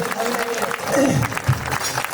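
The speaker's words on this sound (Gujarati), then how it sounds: "તાળીઓના ગળગળાટથી વધાવી લઈએ" An audience at a village devotional performance claps to welcome a visiting bhakti group, a short burst of crowd applause mixed with a voice speaking over it.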